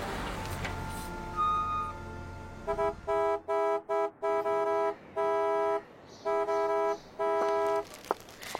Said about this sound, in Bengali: নিচ থেকেই হর্ন দিল সে